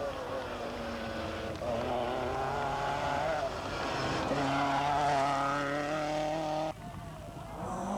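1985 rally cars climb a tarmac road toward Pana Lefkara during the Cyprus Rally, with a Lancia and a Nissan competing. Engines roar loud and steady, revving up and down with gear changes over wind noise, with no pauses between.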